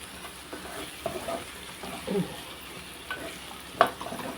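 Food sizzles steadily in a pan while a utensil stirs and scrapes through it in short, uneven strokes, close by.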